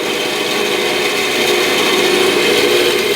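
A 14-inch bandsaw runs steadily with a smooth, even motor hum and broad whir, close and constant throughout with no cutting or pauses.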